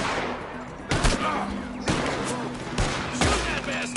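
Gunfire in Red Dead, several sharp loud shots spaced about a second apart over a noisy background, with faint voices underneath.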